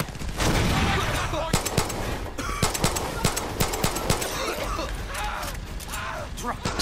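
Rapid gunfire in the shooter game Far Cry 6: dense, irregular volleys of sharp shots crack out close and loud, with someone talking excitedly over the shooting.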